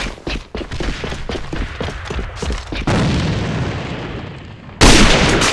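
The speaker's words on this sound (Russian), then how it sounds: "Бросаю гранату!" Grenade blasts and gunfire in the online shooter AVA: a rapid series of booming shots, then a sustained rumbling explosion and a second loud blast near the end, with no talk.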